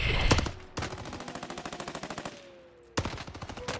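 Rapid automatic gunfire in a Call of Duty: Warzone gunfight, a dense burst of near, loud shots that pauses briefly and then bursts again.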